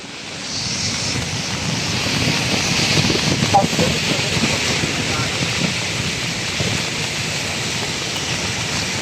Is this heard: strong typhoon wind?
yes